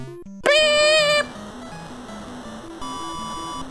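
A loud, high chiptune beep blares for about a second from a Famicom Disk System volleyball game, over a steady bouncy 8-bit background melody that carries on after it.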